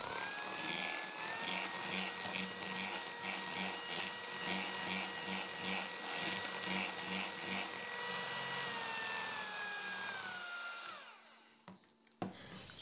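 An electric mixer beats whipped cream with unsalted butter in a steady, whirring motor drone that holds even for most of the stretch, then winds down, followed by a sharp knock.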